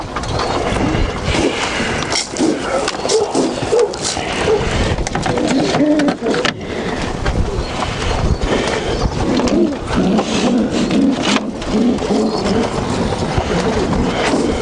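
Pigeons coo softly amid a steady, dense rustle of wings and shuffling, with low cooing calls repeating throughout at close range.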